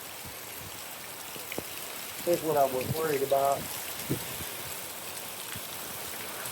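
Heavy rain from Hurricane Milton pours steadily outside a house in Orlando, Florida, a dense continuous hiss close to the microphone, with someone speaking briefly over it midway.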